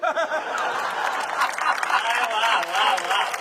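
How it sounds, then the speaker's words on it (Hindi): Audience applause at a live Hindi comedy stage show, a dense burst of clapping with crowd murmur that holds steady for a few seconds, with voices mixed in. "बढ़िया तालियां"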